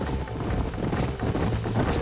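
Horse hooves pounding in a Red Dead Redemption game, a dense, continuous galloping clatter at close range filling the whole moment without pause.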